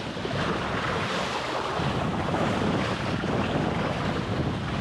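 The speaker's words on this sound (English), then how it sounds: "Yeah, I've got some waves from the ships." Waves from passing ships slap against a small Minicat Explorer 520 inflatable sailing catamaran, heard as constant loud rushing water and splashing mixed with heavy wind buffeting, with no talking.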